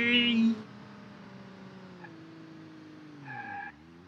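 Car in a driving video game skids, giving a brief high tire squeal at the start followed by a lower, drawn-out engine tone and a second short squeal near the end, all at moderate loudness.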